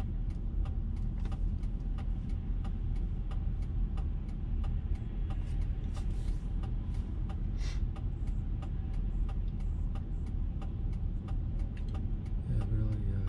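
Steady street traffic rolls past on a Hoboken street, a continuous low rumble of cars and engines with faint clicks, fairly close and unbroken for the whole stretch.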